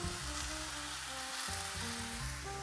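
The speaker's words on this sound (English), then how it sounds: "saute for another few minutes" Vegetarian pad thai noodles with chives sauté in a hot pan, giving a steady, close broadband sizzle throughout, with faint tonal hums running underneath.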